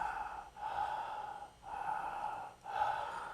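Slow, deliberate breaths come in three long cycles, each a soft airy exhale or inhale separated by short pauses, close and quiet with no talking, as part of a tantric breathing practice.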